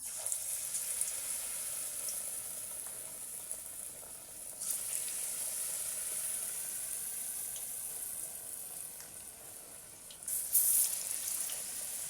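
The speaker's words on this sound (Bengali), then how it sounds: "এবার তেলের মধ্যে ফুলগুলোকে দিয়ে দেবো।" Pumpkin flowers coated in batter fry in hot oil in a wok, making a faint, steady, hissing sizzle with a brief louder burst near the end.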